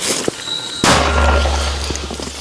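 A single loud, sharp shot from a Ukrainian mortar with a booming blast that rumbles and decays over a second or two, preceded by faint background noise.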